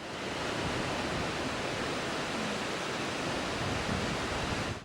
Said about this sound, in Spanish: Una gran cantidad de agua se precipita por las impresionantes cataratas Wallaman, la cascada de una sola caída más alta de Australia